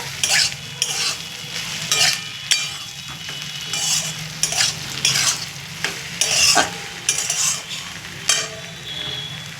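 After a sprinkle of water, food fries in a pan under loud, repeated bursts of stirring, the spoon scraping and clinking against the metal in an uneven rhythm over a steady sizzle.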